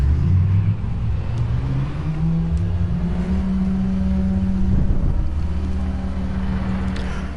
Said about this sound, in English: Wonderful car. Sounds absolutely brutal.